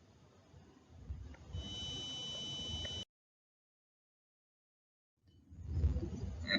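A water temperature alarm buzzer sounds as a steady electronic tone for about a second and a half, cuts off into full silence, then faint background noise returns.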